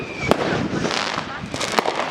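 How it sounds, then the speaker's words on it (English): Fireworks set off by residents on a private neighborhood street, with loud sharp bangs near 0.3 and 1.8 seconds over a continuous crackling barrage, with people talking underneath. "This is just people doing fireworks."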